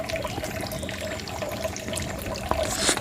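A mountain stream flows steadily nearby, a continuous broadband wash of running water with small splashes and gurgles throughout, growing a little louder near the end.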